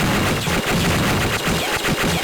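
Turbo-fire shooting in the Game Boy Advance game Sigma Star Saga: a loud, continuous stream of fast, evenly pulsing electronic shots, rattling like a machine gun throughout with no voices.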